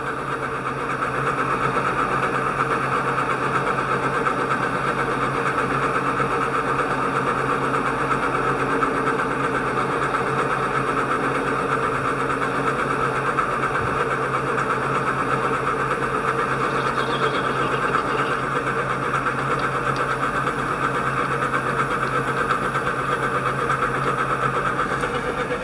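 A DIY CNC lathe with a drag engraver cutting gives off a steady mechanical hum with a fine buzzing texture, constant and unbroken for the whole span, with no voice.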